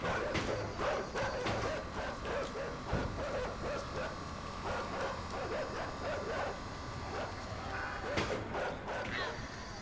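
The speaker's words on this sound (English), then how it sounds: "what do these dogs think is gonna happen?" Dogs bark, yip and whimper in the video game INSIDE, with repeated sharp bursts over a busy, constant game background and some talk mixed in.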